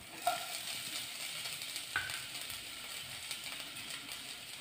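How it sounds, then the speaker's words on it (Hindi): Chopped garlic and ginger fry in a little leftover oil in a pan for paneer chilli, giving a soft continuous sizzle with a few faint clicks and scrapes of stirring, and no voices. "गार्लिक और जिंजर को चॉप्ड किए हुए फ्राई करेंगे पहले"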